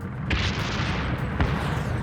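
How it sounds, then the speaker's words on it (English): Heavy fire from well-hidden German anti-tank guns in a WWII battle in France, with two booming shots at about a third of a second and just before a second and a half, set against a constant rumbling din of battle. "they come under heavy fire from well-hidden German anti-tank guns"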